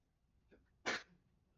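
A single sharp sneeze bursts out loudly after a faint lead-in breath, heard up close in a quiet room during a game development session.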